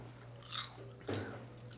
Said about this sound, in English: I like the crunch.